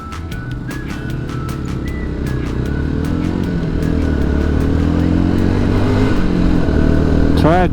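A motorcycle engine hums along a road in Turkey, a steady droning tone that builds slightly in loudness, with wind noise and brief chirps over it.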